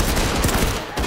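A toy dart blaster fires during an indoor warehouse dart battle, a loud burst of rapid pops lasting about a second, close and harsh.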